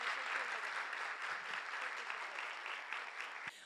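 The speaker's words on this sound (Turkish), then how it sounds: "Ayrıca güçlü bir alkış istiyorum Tuğba Hanım için." A studio audience at a bust cake show on a Turkish daytime TV program gives strong applause, continuous and fairly full, tapering off abruptly at the very end.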